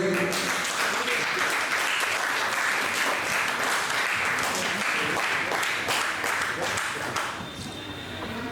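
Audience applause at an award and certificate presentation during a music academy's second anniversary cultural function, sustained dense clapping from a crowd for several seconds, easing slightly toward the end.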